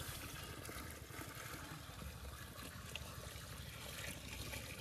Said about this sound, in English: the sap is carefully poured into large pots placed over wood fire stoves